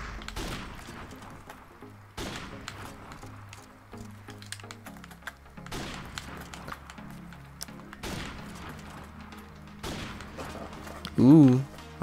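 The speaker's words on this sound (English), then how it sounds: "I was just testing out the sound to make sure the gunshots aren't too loud." Gunfire from the video game Modern Warfare Remastered crackles in repeated bursts over a steady game soundtrack, moderately loud, with a louder voice-like burst near the end.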